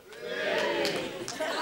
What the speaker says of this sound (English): Give me a cheer if you're married.